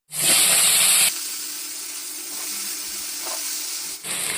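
A loud burst of sizzling as four chopped ripe tomatoes hit hot oil, settling into a steady crackling fry that continues for a few seconds.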